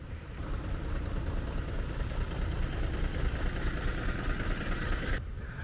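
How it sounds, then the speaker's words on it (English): A truck engine rumbles on an early-morning street in Siem Reap, Cambodia: a steady, fairly close idling drone with low vibration that holds throughout, then cuts off briefly near the end. "Here's another truck."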